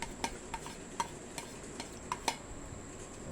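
Sweet and sour salmon belly ingredients being stirred together in a pan, giving sparse, soft scraping clicks at an irregular pace, fairly quiet, with a louder clatter at the very end and no talk.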